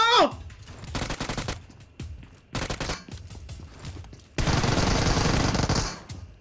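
Bursts of rapid gunfire in PUBG Mobile, several volleys separated by short gaps, ending in a long, dense stretch of sustained automatic fire.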